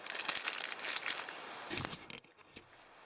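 A zip-top plastic bag holding a first aid kit crinkles up close, busy rustling bursts for about two seconds that then fade to a few faint crackles.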